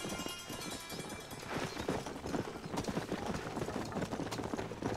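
Horse hooves gallop in the Red Dead Redemption video game, a steady rapid clip-clop running through the whole stretch over music and game noise, with faint voices.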